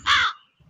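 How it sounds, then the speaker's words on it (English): A cartoon crow gives a single loud, harsh caw, close and clear, followed by a moment of near silence. "in a beautiful forest, lived two naughty crows, Clady and Kiara."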